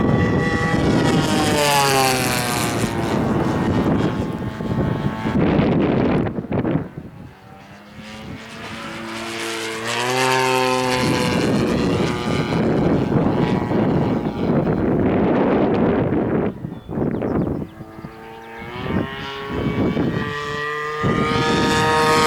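A Bates Hellcat radio-controlled scale model airplane flies overhead, its engine droning loudly and steadily with rising and falling pitch as it passes and circles, occasional dips in volume, no talking.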